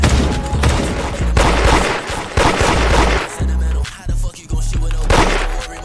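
Rapid gunfire from a shooting video game, loud and close, in dense bursts broken by brief pauses, with sharp repeated shots toward the end.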